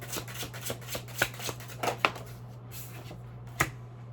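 A tarot deck being shuffled by hand, soft riffling flicks and sharp card snaps in an irregular rhythm, close but fairly quiet over a steady low hum.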